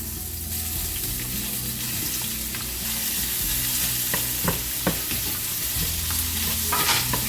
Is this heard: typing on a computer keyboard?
no